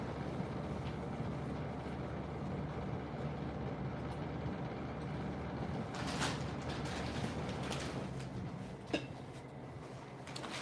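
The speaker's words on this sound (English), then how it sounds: "And now the air conditioner's running." An air conditioner runs in a room, a steady faint broadband hum and hiss that holds evenly throughout, with a couple of soft clicks near the end.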